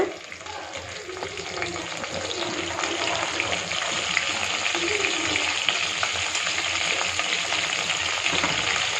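Mustard seeds, urad dal, fenugreek, dried red chillies and curry leaves fry in hot oil, a steady close sizzle with crackling bursts and occasional stirring, continuous for the whole stretch.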